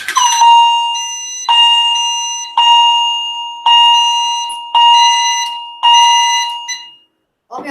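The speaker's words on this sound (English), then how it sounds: "the EST integrity chime strobe. It's also enhanced, so it's syncable." An EST Integrity chime strobe fire alarm sounds six loud, ringing chimes at a steady pace about one second apart, each decaying slowly. The chimes are close and clear, and the alarm then cuts off.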